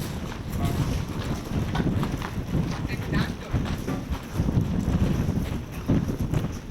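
Strong wind buffets the microphone outdoors by an old double-walled town fortification in northern Italy, a loud continuous low rumble with gusting surges, and people speak faintly beneath it.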